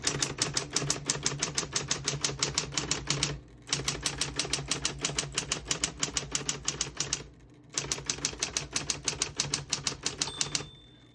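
A 1960s Smith-Corona Coronet Electric portable typewriter clatters through rapid, evenly paced keystrokes, close and crisp, in three bursts separated by short pauses, with no voices.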